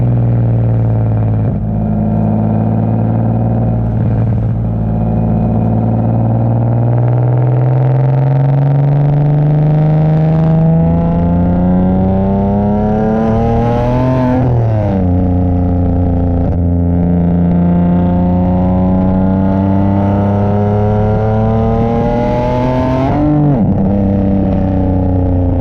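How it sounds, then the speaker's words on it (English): A single-turbo Nissan 370Z's exhaust revs repeatedly, loud and close, its deep drone rising in pitch through each pull and dropping back, with several rising sweeps and no talk. "I'll put a clip of the exhaust right here."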